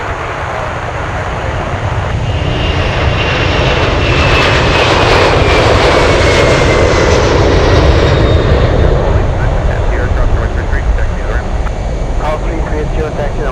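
A Boeing 767 jet takes off at Anchorage airport, its engine roar swelling loud with a rising whine at mid-clip, then holding a steady rumble, while a voice talks over it.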